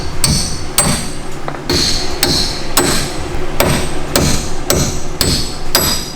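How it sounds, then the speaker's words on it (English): A hammer knocks old wheel studs out of a Nissan 240SX hub in sharp metallic strikes, about ten blows spaced roughly half a second apart with some quicker pairs, loud and close with no talking. "take a hammer, knock out the old ones"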